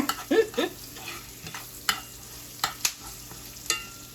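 Garlic fries in a cast iron pan as it is stirred, sharp pops and crackles scattered irregularly over a low sizzle, up close with no speech.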